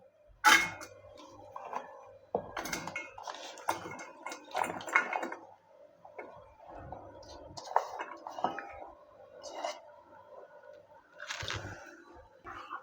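A metal ring and a mesh vessel holding raw mango are set into a pot of water, giving a run of close, irregular clinks, taps and soft knocks with brief pauses between them, while a voice speaks quietly in the background.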